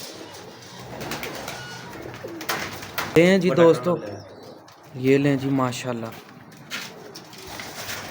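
Pigeons, including a high-flyer pigeon, coo in low, throaty bursts, two clear rounds nearby, while someone talks and faint chirps sound in the background.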